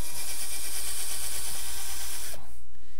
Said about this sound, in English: getting my pilot holes drilled in the supports at the same time.